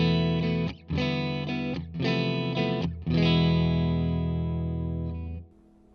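Sustained, distorted electric guitar chords ring out one after another through a Wampler Ethereal delay-reverb pedal set dark, each washed in a dark reverb tail, with the last chord fading out.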